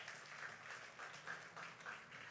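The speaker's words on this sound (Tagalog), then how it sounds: "Pumalakpak sa Lord." A church congregation applauds during a worship service, a steady wash of clapping from many hands at moderate distance, sustained throughout without speech.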